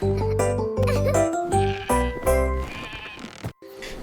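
Sheep bleat in a children's nursery rhyme song: loud, wavering, nasal baa calls repeat one after another over about four seconds, close and prominent over the music.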